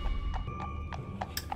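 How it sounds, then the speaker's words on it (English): Hooves of a horse clip-clop in a steady, moderate rhythm, clear and fairly near, under a film soundtrack with a steady hum and rumble, with no speech. "Check out his horse on a horse."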